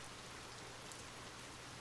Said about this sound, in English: the gentle rain continues to fall